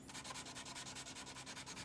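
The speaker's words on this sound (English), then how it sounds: "I needed to start sanding it on the ricasso" A Damascus steel Bowie knife blade is hand sanded at the ricasso, with steady rhythmic back-and-forth rasping strokes, about eight per second, close and even.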